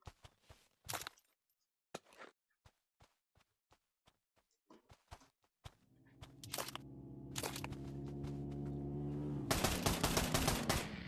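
Gunfire in the VR shooter Pavlov: scattered sharp single shots and short bursts, some close and some distant, later backed by a droning vehicle engine with dense rapid automatic fire near the end.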